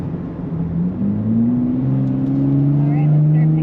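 A 2023 Nissan Z Performance with a 9-speed automatic in sport mode pulls away and builds speed, its engine note rising steadily in pitch and loudness from inside the cabin, with a voice over it.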